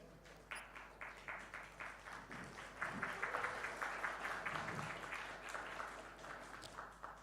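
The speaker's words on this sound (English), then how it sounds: "When I say Mobexx, can we all clap together?" An audience at a summit and awards event claps together in a steady rhythmic beat, many hands in unison, moderately distant and continuing throughout.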